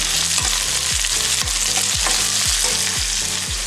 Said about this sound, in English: I'm gonna put the onions.